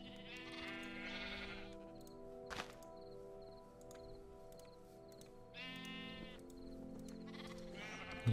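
A Minecraft sheep bleats twice, a short wavering call near the start and another later, over quiet sustained background tones with a single sharp thud in between.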